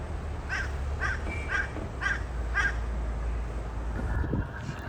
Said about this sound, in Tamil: அது மாதிரி இங்கே ஒரு காக்கா பாருங்கள்